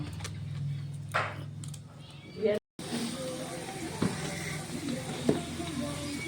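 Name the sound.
potatoes frying in a pan on a stove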